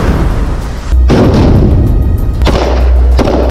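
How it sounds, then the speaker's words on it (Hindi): Heavy gunfire and tank fire from combat in Gaza, a series of loud, close booming blasts with rumbling tails, roughly three or four distinct impacts. "इस दौरान उन्होंने कई राउंड फायरिंग की।"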